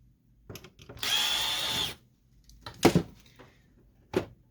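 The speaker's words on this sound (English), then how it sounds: "we're going to remove these two screws right here" A power screwdriver whirs steadily for about a second while backing screws out of an HP Officejet 5740 printer, followed by a few sharp clicks and handling knocks.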